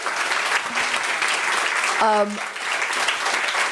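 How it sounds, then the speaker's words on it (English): Steady applause from a crowd, clapping continuing throughout with a brief voice rising over it midway. "So let's give Claire a round of applause."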